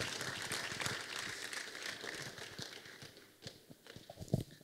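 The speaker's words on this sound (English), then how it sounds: "Please put your hands together for the president and chairman of council." An audience at a grand finale ceremony claps in steady, faint applause that stays even throughout with a few sharper individual claps toward the end.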